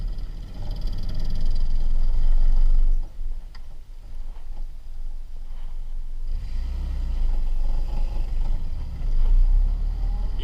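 A 1948 Willys CJ-2A jeep engine while driving, a loud low rumbling drone that dips briefly then returns steady and heavy, with road and cabin noise throughout.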